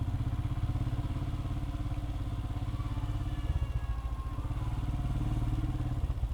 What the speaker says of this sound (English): Triumph Scrambler.